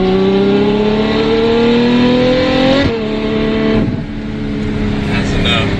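A Ferrari F12 supercar accelerates hard, its loud engine note climbing steadily in pitch for a few seconds before a sharp gear change and a second surge. A voice speaks over the engine.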